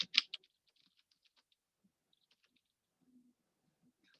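Faint keystrokes tap on a computer keyboard while Python code is written. A couple of louder clicks open the run, then sparse soft taps follow in a quiet room.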